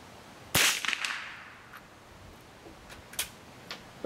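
An arrow shot at an outdoor target lands with a sharp, close whip-like crack, followed by a few fainter ticks and snaps as the sound dies away.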